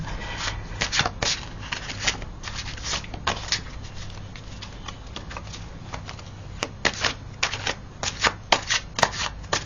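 Tarot cards being shuffled and handled close up, with a steady run of soft riffling and slapping followed by sharper taps and snaps as cards are laid out.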